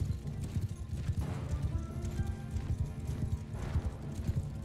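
Many horses gallop in the Bannerlord video game, a dense continuous drumming of hooves close by, with an occasional faint whinny mixed into the rumble.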